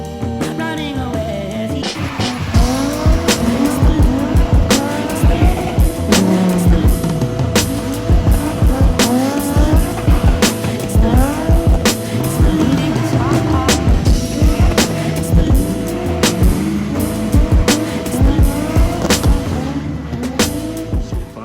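Nissan VQ V6 engine fitted with a Henkoautolab 3-inch resonator Y pipe, revving repeatedly with rising and falling exhaust tone in a steady series of pulls over about twenty seconds, loud and close, with occasional voices faintly underneath.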